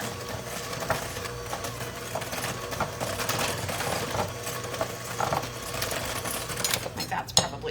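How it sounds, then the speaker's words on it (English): A stand mixer creams cookie dough on medium speed, giving a steady whirring mechanical hum with faint rattles throughout, at moderate volume and without pause. "we're gonna cream this again on medium speed for 30 seconds to a minute"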